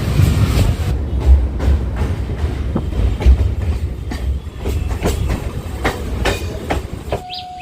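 A suburban train moves slowly along the railway toward Park Circus station in Kolkata, giving a loud continuous rumble with rhythmic clickety-clack of the wheels and a brief high squeal near the end.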